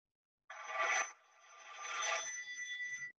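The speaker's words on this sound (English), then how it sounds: "Ooh, oh, it's ringing." A telephone rings twice in a row, a clear electronic tone alone in a quiet room, the second ring longer than the first.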